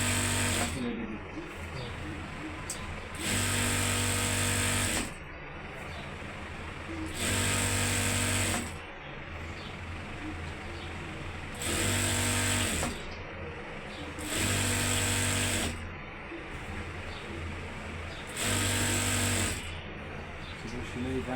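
A sewing machine stitching a salwar runs in repeated loud bursts of steady whirring, each lasting a couple of seconds, separated by short pauses.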